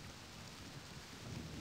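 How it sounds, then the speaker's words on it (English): Rain falls in the video game realMyst: Masterpiece Edition as a steady, soft hiss of drops with a low rumble beneath. It is faint and even throughout, with no voices. "We should never do this, by the way, because it's raining."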